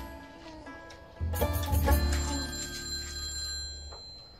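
A telephone bell rings with a bright repeating trill that grows louder partway through and carries over a low steady background hum, with no talking.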